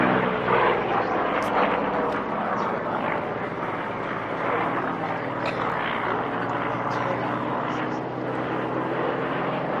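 Vintage propeller aircraft at a Duxford airshow flying head-on toward the commentary stand, a loud, sustained engine drone filling the air as it approaches.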